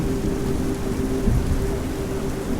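A thunderstorm sound effect from an audio drama: steady heavy rain hisses throughout while a low rumble of thunder swells briefly in the middle, loud and close, with no voices.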